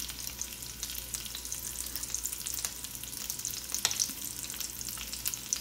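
Bacon and beef hearts sizzle steadily in a hot pan, a close, even crackling hiss with occasional sharper pops and no talk over it.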